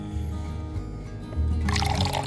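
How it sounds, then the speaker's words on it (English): Water pours into a lasagna meal bag inside a car, a steady liquid gurgle that grows louder and brighter near the end, close and continuous over a low background rumble. "We're gonna add 2 cups of water."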